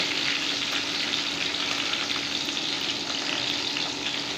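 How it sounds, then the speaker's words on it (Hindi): Onions fry in a pan with a steady, dense sizzle that stays loud and close and never lets up across the whole stretch, and no voices are heard over it. "प्याज तल रहा है"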